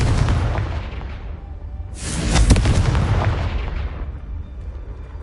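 A Confringo blasting spell in Hogwarts Legacy detonates in a single loud, close boom with a sharp crack, set against a steady rumbling game background that fades slowly afterward.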